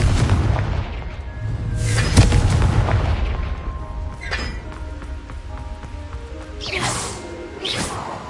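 Fire spell blasts in the Hogwarts Legacy video game: loud booming impacts with whooshing bursts, one heavy blast early, then further explosive hits spaced apart, fading between them, with no speech.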